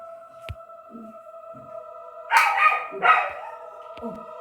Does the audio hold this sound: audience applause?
no